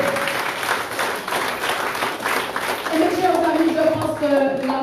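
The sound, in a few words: audience applause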